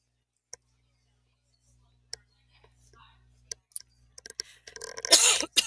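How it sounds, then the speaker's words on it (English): A person coughs and clears their throat several times in short, scattered bursts between near silence, ending in a louder, breathy fit of coughing close to the microphone. "Still coughing."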